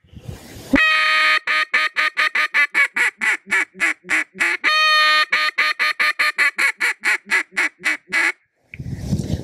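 A duck call blown by a competitive caller in a long run of short, evenly spaced hail notes, loud and close, with rapid rhythmic quacking blasts and a brief pause near the end.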